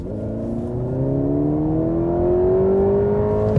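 A facelifted Mercedes-Benz E-Class accelerates on the road with its EQ electric boost, its engine note rising smoothly and steadily in pitch from the cabin, a continuous building whir with no talk over it.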